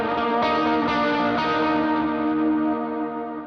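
Electric guitar chords for a worship song run through effects with distortion, chorus and echo: a sustained, shimmering chord wash played alone, ringing steadily then slowly fading out.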